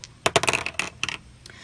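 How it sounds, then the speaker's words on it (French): Dice thrown onto a table during a game of the Clac Clac board game, a quick burst of sharp clattering clicks as they tumble and settle, close and fairly loud. "On lance les dés."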